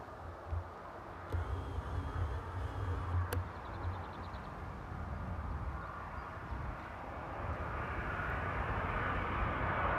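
Airliner on a Bilbao flight arriving at Frankfurt Airport, its jet engine roar building steadily into a broad rumble, distant at first and growing nearer and louder, with brief faint clicks early on.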